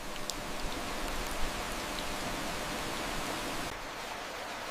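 Rain falling over Grindelwald village in Switzerland, a soft, steady hiss of drops with a few brief taps, even and unbroken from start to finish.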